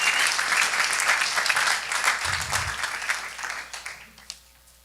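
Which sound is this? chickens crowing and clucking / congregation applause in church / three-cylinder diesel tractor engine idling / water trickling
congregation applause in church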